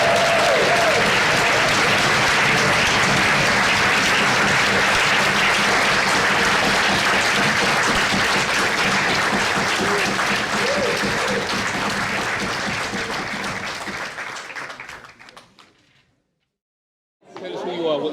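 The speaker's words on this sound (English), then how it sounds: "Let's give Robin a final round of applause" Loud, sustained audience applause fills most of the stretch at a discussion event, with a faint voice low beneath the clapping, then fades away to near silence before a brief burst of noise at the end.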